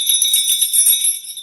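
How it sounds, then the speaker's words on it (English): A small bell rings at a hockey playoff-spirit New Year party, a bright sustained metallic shimmer that jingles continuously, loud and close with no voices over it. "It's the bell of playoff spirit."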